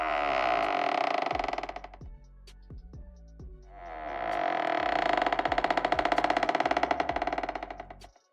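Door hinges creak loudly in a long, drawn-out groan, break off into a few scattered clicks and knocks, then swing into a second, longer and stronger creak that ends abruptly.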